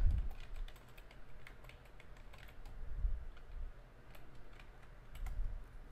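Quick, light tapping on a computer keyboard comes in uneven bursts of close keystrokes, soft and steady with brief pauses, alone with no voice.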